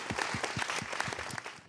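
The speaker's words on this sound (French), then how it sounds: "Mes applaudissements." A studio audience applauds the guests at the close of a television talk show, with brisk, close, fairly even clapping that runs briefly without any talk.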